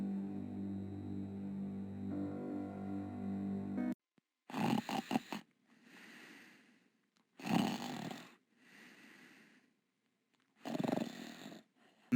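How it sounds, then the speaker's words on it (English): The wizard Manannan snores loudly in King's Quest 3, with repeated deep, rasping snores and softer whistling exhales in a slow rhythm, following a short stretch of game music. "His snores are so loud they rumble off the walls."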